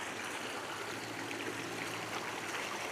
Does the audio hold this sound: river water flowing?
yes